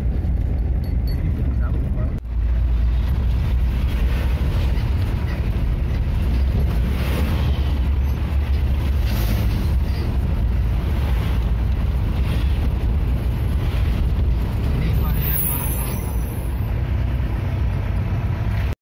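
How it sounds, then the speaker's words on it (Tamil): A jeep travels along the forest road from Nilakkal to Pamba, its engine and road rumble forming a continuous low drone with wind buffeting the microphone throughout, and a voice talks over it. "நாங்கள் இப்போது நிலக்கல்ல இருந்து பம்பாவுக்கு ஜீப்பில் போயிட்டுருக்கோம்"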